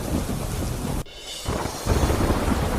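Heavy monsoon rain pours down in Porbandar during a thunderstorm, a dense loud roar of rainfall with a brief lull and then a swell of rumbling downpour.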